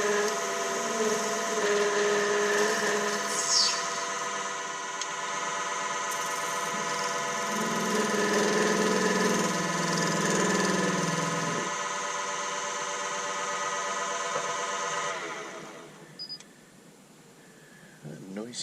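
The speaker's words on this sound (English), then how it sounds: "Noisy sounding lathe, isn't it?" A noisy wood lathe runs continuously at a steady pitch for turning a hydrangea lamp, its droning whine and hum holding loud and even before spinning down and fading near the end, with talk over it.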